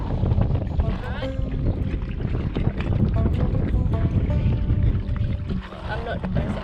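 Oars work a sailboat through sea water near rocks, with splashing and knocking strokes under steady wind noise on the microphone; a voice talks briefly over the rowing.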